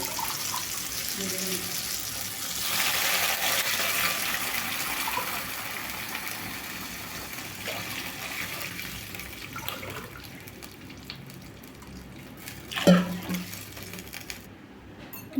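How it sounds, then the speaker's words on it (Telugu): Four glasses of water gush and splash into a metal pan for semolina upma, loudest early on, then settling to a softer steady pour before a brief clatter. "ఇప్పుడు వాటర్ అయితే పోసుకోవాలండి"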